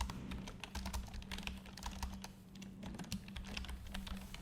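Typing on a computer keyboard while writing code, a quick and steady run of close key clicks.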